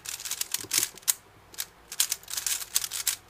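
A Gans 357 speed cube being turned by hand, rapid clicky plastic clacks in quick bursts with short pauses between runs, close and fairly crisp.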